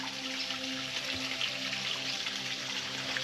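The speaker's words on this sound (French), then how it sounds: "Et un ruisseau." A small stream flows along a countryside walking loop, a steady, even rush of running water filling the scene without pause.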